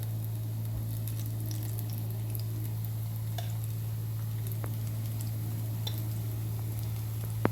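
Chilli bajji batter fries in hot oil, a steady close sizzle with a constant low hum beneath and occasional small pops and crackles.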